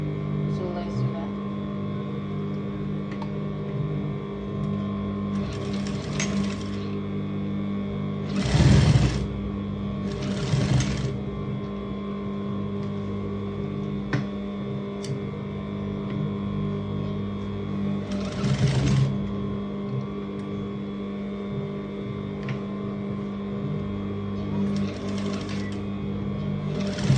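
An electric sewing machine stitches sokoto trousers with drawstring waists in several short whirring bursts, separated by a steady background hum.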